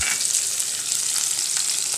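Onion frying in oil in a pan, with a loud, continuous hiss and fine crackle that stays close and even for the whole stretch.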